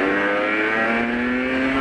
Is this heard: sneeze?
no